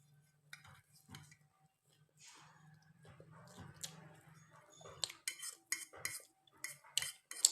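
Fried pasta eaten with cutlery at home: soft clinks and scrapes of utensils against a plate, sparse at first and then a quick run of sharper clicks toward the end, close and fairly quiet with no talk.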